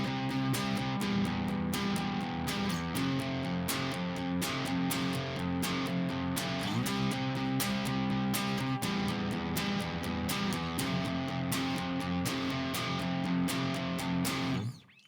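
Electric guitar playing a song at a faster tempo, with steady rhythmic strums and sustained chords held loud and continuous for about fifteen seconds before cutting off abruptly.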